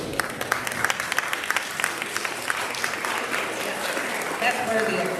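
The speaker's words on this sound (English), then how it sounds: "That's worthy of applause." Applause from an audience at the opening of an annual music festival, starting with sharp individual claps that swell into steady clapping from the crowd, with some voices in the background.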